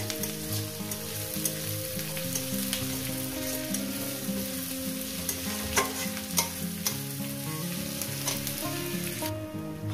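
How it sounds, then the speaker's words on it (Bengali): Onions frying in a pan for a spinach and fish-head stir-fry, a steady close sizzle with scraping stir strokes and clinks throughout, no talk. "এবার এটাকে আমি প্রায় 2-3 মিনিট ধরে আমি পেঁয়াজটাকে"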